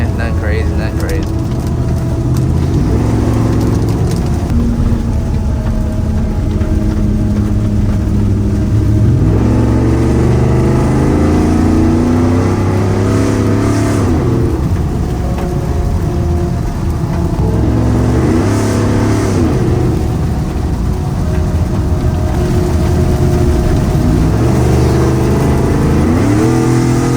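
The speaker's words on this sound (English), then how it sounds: "Enjoy the sounds of this Borla Atak." A tuned, lifted Ford F150 5.0 on an E85 tune, fitted with a Borla Atak exhaust, roars loudly and continuously as it accelerates and revs, its engine note rising and falling in repeated pulls.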